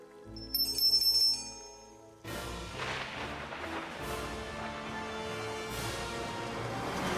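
A bright bell rings in a short rapid flurry in the Lego Batman video game, then gives way to a dense, busy wash of game music and effects for the rest of the stretch.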